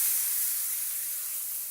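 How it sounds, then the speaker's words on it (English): Cold milk hits a hot flour roux in a pan and sets off a loud, broad steamy sizzle and hiss that stays steady and then eases slightly over a brief moment. "What we're going to want to do is we're going to add a cup of milk."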